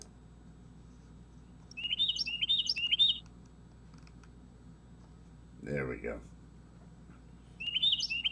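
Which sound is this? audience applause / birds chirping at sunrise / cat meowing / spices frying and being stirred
birds chirping at sunrise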